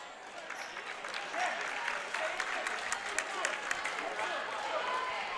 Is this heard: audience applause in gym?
yes